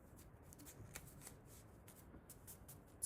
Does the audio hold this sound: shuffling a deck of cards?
yes